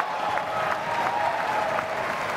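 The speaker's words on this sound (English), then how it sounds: "Crowd going bonkers here in Grand Central Terminal" A crowd applauds a squash match at the 2015 Tournament of Champions in Grand Central Terminal, with loud, dense, continuous clapping throughout.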